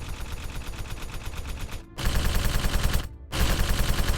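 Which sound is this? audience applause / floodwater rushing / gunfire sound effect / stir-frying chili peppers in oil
gunfire sound effect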